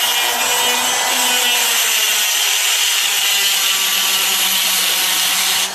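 A Dremel rotary tool cuts into a wooden fingerboard held in a vise, giving a steady, loud high-pitched whine and grinding rasp that continues without a break, with no speech.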